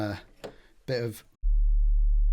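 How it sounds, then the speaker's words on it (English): After brief speech, a deep, steady sine-wave sub bass tone sounds loudly and continuously, a pure low hum with no variation. "the sub bass is just a sine wave"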